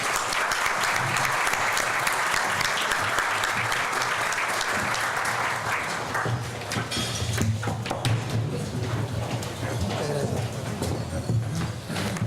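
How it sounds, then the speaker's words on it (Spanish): A strong, sustained round of applause fills a business association luncheon hall, dense and loud for about six seconds, then continuing more loosely with clatter and murmuring. "le pido un fuerte aplauso para nuestro orador"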